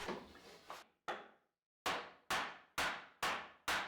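A mallet and then a heavy hammer drive sliding dovetail legs together through a protective wood block on a live-edge bed, giving about eight sharp, ringing blows, a few irregular, then a steady rhythmic series.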